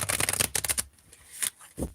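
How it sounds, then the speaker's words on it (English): A deck of playing cards is shuffled by hand in a quick burst of close, crisp riffling and flicking, then a pause and a few softer flutters, with no talk. "I don't know why I'm shuffling cards"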